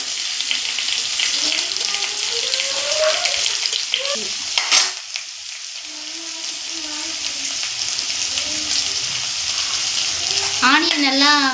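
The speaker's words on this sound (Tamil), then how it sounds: "அப்புறம் ஆனியன், வெங்காயம் நல்லா வதங்கணும்." Onions sautéing in a pan for a vegetable kurma: a continuous loud sizzle and crackle running throughout, with occasional stirring scrapes and a faint tonal whine in the background.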